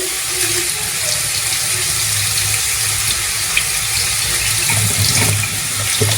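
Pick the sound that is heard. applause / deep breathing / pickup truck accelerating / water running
water running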